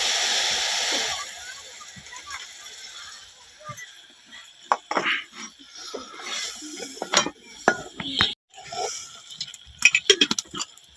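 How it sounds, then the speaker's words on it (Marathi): Chili water splashes into a metal pot on a wood-fired stove while making crab curry, followed by clinks and knocks of utensils against cookware, with scattered quieter gaps. "थोडं मिरचीचं पाणी टाकून द्यायचं त्याच्यात"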